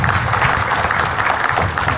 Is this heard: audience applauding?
yes